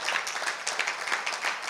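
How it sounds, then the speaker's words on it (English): Audience at a Lagos event honouring Chris Ubosi, MD of Megalectrics, claps in a steady, fairly quiet round of applause lasting under two seconds, with no voices on top. "I think he deserves a round of applause."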